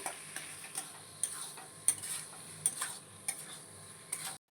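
Fried vegetables for Punjabi-style begun bharta being stirred in a pan, a utensil scraping and tapping the metal in irregular close clicks over a soft steady sizzle, no voices.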